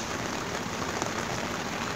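Steady, dense rain patters on surfaces outdoors during fishing, an even wash of drops with no voices present.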